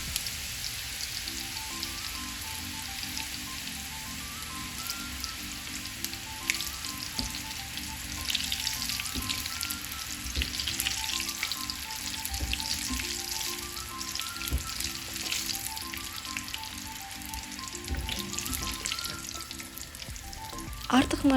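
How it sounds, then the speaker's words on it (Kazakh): Small pieces of chak-chak dough fry in hot sunflower oil, a steady bubbling sizzle with rain-like crackle throughout, under soft background music. "қызып тұрған күнбағыс майында қызарғанша барлығын қуырып аламыз"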